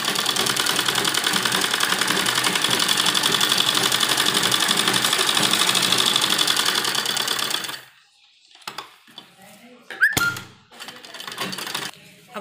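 A sewing machine runs a double line of stitching on a baby dress, whirring steadily and close for about eight seconds before stopping, followed by quiet handling of the fabric.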